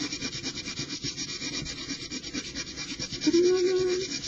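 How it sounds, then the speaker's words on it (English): A Fiskars texture plate is sanded in a steady, close rasping rub that runs throughout, with a brief tonal squeak near the end. "let's just give it a sand through"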